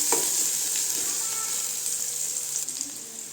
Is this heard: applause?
no